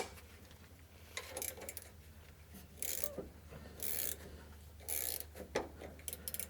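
A ratchet ring spanner working the rear pinion nut on a 105 Series Landcruiser, close clicking ratchet strokes and metallic clanks in several short bursts, with a steady low hum underneath.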